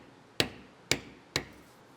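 Three sharp, evenly spaced strikes of a mallet on a leather tooling stamp held upright, pressing the leather in beside bevel lines of a leaf-and-vine design; close, crisp wooden knocks with quick decay in a quiet room.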